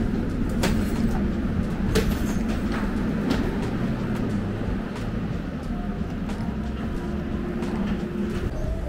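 An airport terminal tram rolls along with a continuous rumbling hum and rattle at steady loudness, heard from inside the car, with faint clicks and a brief distant voice.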